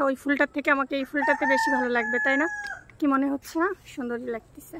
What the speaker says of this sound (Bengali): মোরগ ডাকে, দেখছেন?